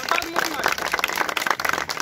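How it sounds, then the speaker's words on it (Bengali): A crowd clapping loudly at a gathering, a busy uneven patter of many hands with voices and babble mixed in. "মতির জন্য জোরে একটা হাততালি হোক।"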